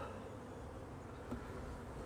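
Honey bees hum at an open hive colony during a frame inspection, a faint, continuous low buzz with no talk over it.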